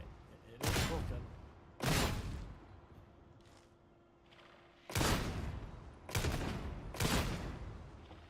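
Heavy bolt gun shots in the video game Darktide, five loud booming blasts fired in two clusters with short gaps between them, each leaving a brief decaying tail.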